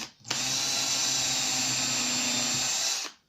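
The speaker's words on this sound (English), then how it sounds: "Drill a little hole" A power drill with a metal bit spins up sharply, whines at a steady high pitch for about three seconds while drilling a small hole, then winds down and stops.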